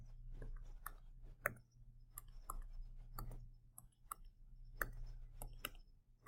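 Graphing calculator keys being pressed as values are entered: a quiet, irregular series of small plastic clicks and taps, close by, over a low steady background hum, with no talking.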